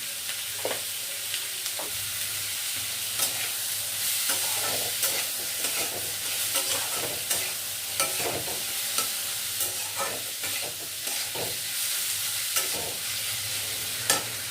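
Onions with a pinch of salt fry in a pan, a constant loud sizzle broken by repeated scraping strokes and small clatters of stirring, heard up close without any voice.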